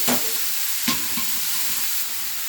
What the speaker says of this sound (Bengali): এবার আমি এটা নেড়ে দিচ্ছি।